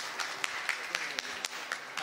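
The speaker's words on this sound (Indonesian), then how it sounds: "Tepuk tangan untuk Ibu Evi." An audience at an Indonesian policy forum applauds with light, scattered claps, heard as sharp periodic hand claps under ongoing talk in the room.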